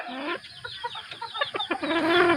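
A Gilmore Raptor bloodline fighting rooster clucks up close in a string of short, uneven calls that builds to a longer, louder sound at the end.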